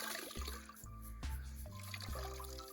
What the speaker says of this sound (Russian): А из центрифуги вот здесь сюда льется вода, которая выжимается.